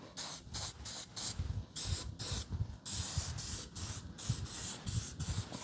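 Coating is sprayed onto a 1967-72 Chevy truck door in a series of close hissing aerosol bursts, each a second or less, repeated in a steady rhythm.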